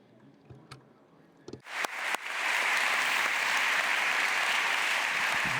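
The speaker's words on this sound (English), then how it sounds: "So a big applause for you." An audience at a lecture breaks into applause after a few scattered claps, swelling quickly into loud, sustained clapping that fills the rest of the moment without letting up.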